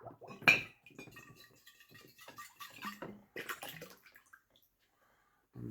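Glass bottles rinsed with running water: soft splashing and trickling with a few sharp clinks of glass, quiet and close, with brief pauses between bursts of water.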